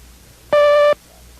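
A single steady Morse code dash, the letter T, sounds as a clean electronic tone lasting under half a second, alone against near silence.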